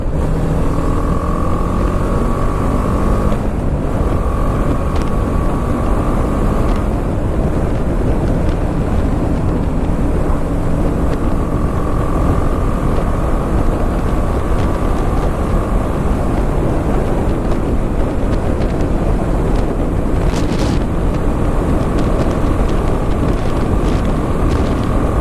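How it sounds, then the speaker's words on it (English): A BMW G310 GS 300cc motorcycle being ridden, a steady loud engine drone mixed with heavy wind rush on the microphone for the whole stretch, no talking. "You really wouldn't believe this was a 300cc bike, the way it goes."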